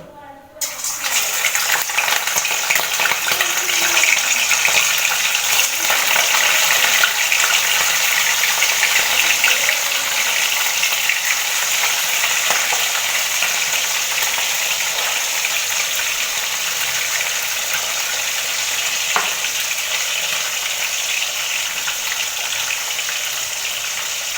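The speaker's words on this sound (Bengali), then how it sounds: "এবার আমি তেলের মধ্যে মাছটা দিয়ে দেবো। তো প্রথমে আমি তিনটে করে মাছ ভেজে নেব।" Katla fish pieces dropped into hot oil, three at a time, set off a loud, steady, hissing roar of frying that starts abruptly and carries on without a break.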